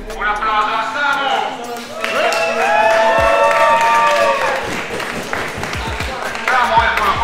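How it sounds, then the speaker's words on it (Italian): Audience applause and cheering at a fingerboard contest as a finalist is called onstage, a steady crowd wash of clapping and whoops under loud music with a voice over it. "Un applauso a Samu."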